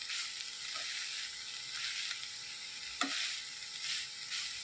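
Bitter gourd thoran sizzling and frying in a pan without water, with a spoon scraping and stirring through it in steady strokes; a continuous bright hiss of frying runs throughout with occasional clinks, no voices.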